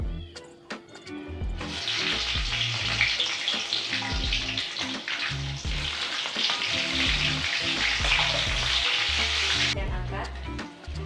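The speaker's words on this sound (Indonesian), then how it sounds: "Selanjutnya goreng cabai rawit hingga layu." Bird's eye chili peppers fry in hot oil for a fish-anchovy sambal, giving a loud, steady sizzle that runs for several seconds, with clinks of stirring and no voices.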